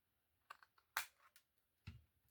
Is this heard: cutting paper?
yes